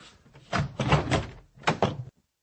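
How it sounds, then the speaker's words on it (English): An interior door pushed and knocked shut, several dull thuds and rattling bumps in quick succession, close and fairly loud, ending abruptly in silence. "Did you close the door behind you?"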